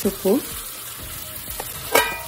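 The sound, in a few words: green chillies, curry leaves, frozen tamarind leaves sizzling in pan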